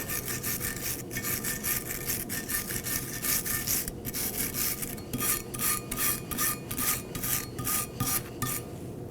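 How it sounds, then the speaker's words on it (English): Brake caliper slider pin locations on a 2015-2023 Nissan Maxima are scrubbed with a wire brush: rapid, rhythmic, harsh rasping strokes, close and steady throughout. "Gonna take a wire brush and clean our slider pin locations right here."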